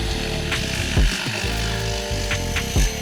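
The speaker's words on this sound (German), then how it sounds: "Ich werde das jetzt mit der Stichsäge erstmal grob vorschneiden." A jigsaw roughly cutting wall panels during a stairwell renovation, a loud continuous buzzing rasp close by with brief dips and surges as the blade works through the material.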